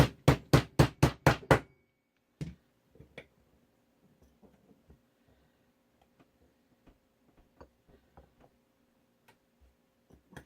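Pins being tapped out of a Smith & Wesson 469 pistol slide: a quick run of six sharp, loud metallic taps, then sparse lighter clicks and small knocks of parts being handled at close range.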